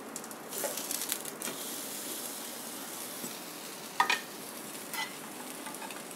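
Cornflake-coated French toast fries in a pan with a soft, steady sizzle, broken by a few brief clinks and scrapes near the start and a sharper tap around the middle.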